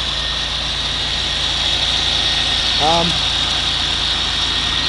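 A 2000 Pontiac Grand Am GT freshly fitted with a new motor idles steadily with a smooth, even hum and no knocking, a brief chirping sound rising partway through.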